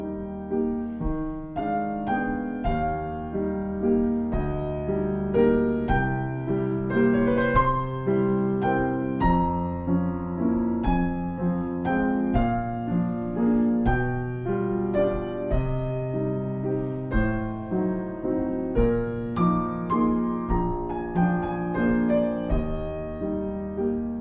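Piano exercise with the right-hand melody played louder than the left-hand accompaniment, a steady flowing line of notes over lower sustained chords, clear and moderately loud with no voices.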